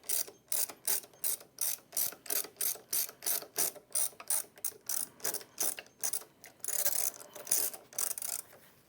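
Ratchet wrench tightening the bolt that secures a pulley, key, bronze bushing and washer on an IKON buffer's brush assembly: a steady run of quick, evenly spaced mechanical clicks, close and clear, with a denser burst of clicking near the end.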